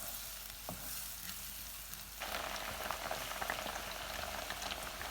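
Crushed garlic and ginger go into a pan of browned onions for keema fried rice, and a soft, steady sizzle of frying jumps to a louder, brighter crackle partway through, close and without talk.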